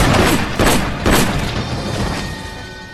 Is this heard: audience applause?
no